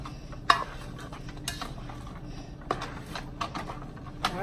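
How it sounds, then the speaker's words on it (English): Onions being stirred into a pot of homemade spaghetti sauce with sausage: a spoon scrapes and clinks against the pot in irregular strokes over a faint, steady simmer, close and moderately quiet. "Mix that right on in like so."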